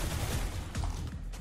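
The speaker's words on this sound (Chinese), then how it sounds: "这 AK 子弹会往下飘" AK rifle bursts in an online adventure shooter game, quick rattling shots in short clusters, fairly faint and compressed, with no voices.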